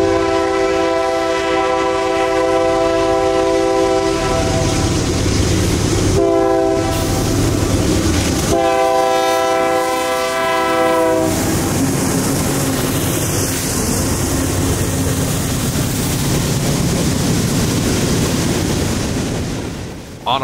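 Norfolk Southern freight train pulling out southbound, its horn blaring in long loud blasts with a short gap, then the rumble of the moving train continuing alone to the end.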